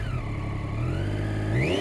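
A 2013 Triumph Daytona 675 triple-cylinder sport bike revs loud and close, its engine tone climbing steadily and rising sharply near the end.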